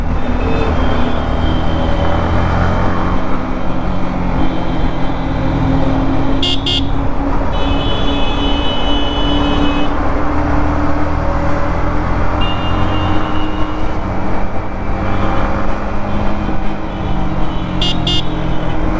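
Dense road traffic in a Friday jam, with a steady roar of engines and tyres close by and a few short car horn toots breaking through now and then.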